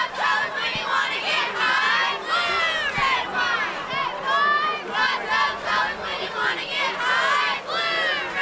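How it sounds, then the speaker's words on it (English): A large crowd at a night high school football game between North Rowan and North Stanly roars with steady cheering and shouting, cheerleaders' high voices chanting through the din, continuous and loud without a break. "You can hear the cheerleaders down there trying to keep the fans, a good crowd"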